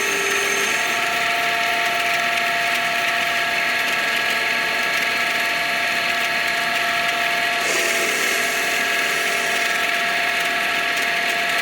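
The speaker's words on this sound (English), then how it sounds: "tool steel is easier to cut on a lathe or produces a better finish than mild steel" A lathe turns A2 tool steel with a steady, close, high-pitched cutting whine and hum that holds throughout, shifting slightly in tone partway through, with no talk.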